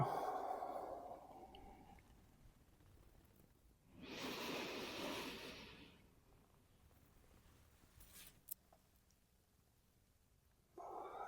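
During a hamstring stretching exercise, a long, soft exhale rises and fades, set among quiet room tone and faint rustles, with a brief click near the end.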